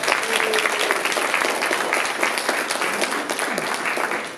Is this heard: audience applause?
yes